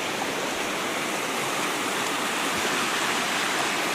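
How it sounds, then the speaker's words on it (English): Deep floodwater rushing fast through a swollen wild creek, a steady, dense roar of broadband churning water that continues unbroken and loud throughout, with no voices. "The water's running probably 20-something miles an hour"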